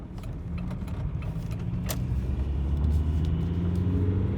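A Volkswagen TDI car with P2196/P0101 fault codes drives along a main street, its low engine rumble steady and gradually swelling as it accelerates. A few faint mechanical ticks sound above the drone, and no one speaks.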